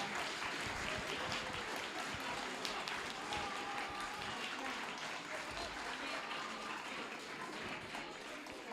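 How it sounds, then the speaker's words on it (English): An audience claps at a live gathering, a fairly quiet but continuous wash of applause with murmuring voices beneath it. "Give them another round of applause."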